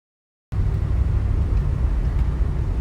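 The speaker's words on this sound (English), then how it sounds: "here we are out for a drive in the Mark IV" A 1972 Lincoln Continental Mark IV on the road, starting after a half-second of silence with a steady, loud low rumble of engine and road noise that stays even and continuous throughout.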